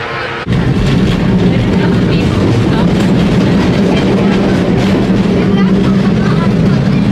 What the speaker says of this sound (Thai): นี่นะคะรถรางที่เรากำลังจะขึ้นไป